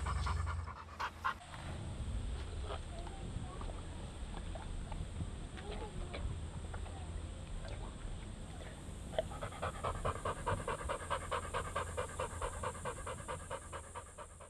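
A dog panting steadily close by outdoors in a rural setting, with rapid rhythmic breaths that quicken toward the end, over faint background sounds.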